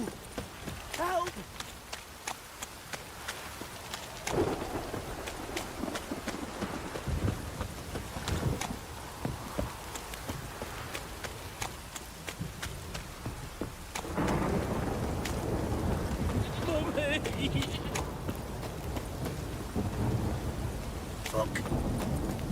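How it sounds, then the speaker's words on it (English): Heavy downpour and rolling thunder sound in The Witcher 3: Wild Hunt on PS5, a dense roar of rain that grows louder midway, punctuated by thunder rumbles and sharp cracks, with character voices and footsteps mixed in. "This downpour's a bastard, it is."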